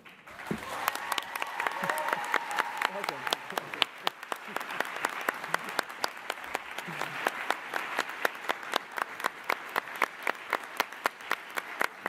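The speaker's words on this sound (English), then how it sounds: "Now I invite you to give a huge round of applause to your families, your friends, teachers, and indeed everyone that has supported you along the way." Large graduation ceremony audience gives sustained, loud applause, dense clapping swelling in the first seconds then thinning into scattered individual claps toward the end.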